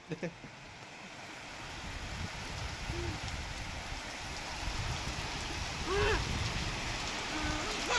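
Dense, steady monsoon downpour hissing and pattering close by in Shevgaon, Ahmednagar district, Maharashtra, with faint voices briefly audible beneath the rain.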